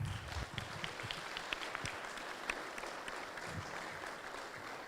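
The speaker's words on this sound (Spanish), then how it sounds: "agradecemos a Lourdes con un fuerte aplauso." Audience applause at a family conference session, a dense, steady patter of many hands clapping together at moderate distance, holding fairly even for a few seconds with no speech on top.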